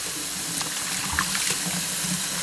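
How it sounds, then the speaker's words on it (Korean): Running tap water pours steadily into a sink as webfoot octopus is rinsed by hand, a constant close splashing hiss with faint handling sounds. "맑은 물이 나올 때까지 어, 헹궈주세요."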